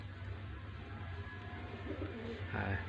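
Teddy golden pigeons, including a Sialkoti female, give low, steady cooing that runs through the whole stretch over a constant background hum, with a louder swell near the end.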